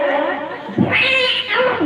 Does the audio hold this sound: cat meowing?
yes